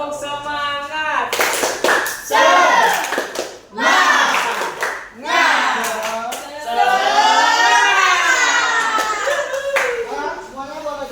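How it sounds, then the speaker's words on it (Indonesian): A classroom of children performs a rhythmic spirit clap, with bursts of hand claps in a patterned beat alternating with loud chanting voices, close and lively. "Tepuk semangat."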